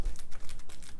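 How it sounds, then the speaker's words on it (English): A papercraft snowflake piece with glued-on stones is pressed down by hand, giving about a second of rapid, close crinkly crunching with a quick series of small pulses. "You hear lots of crunching."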